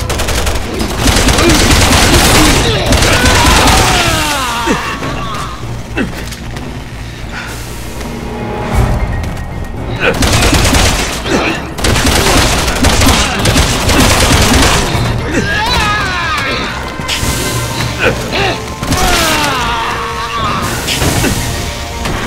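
Dense, sustained gunfire from Resident Evil 6: rapid automatic bursts and heavy shots fire nearly nonstop, loud and close, with explosive booms and scattered voices mixed into the battle.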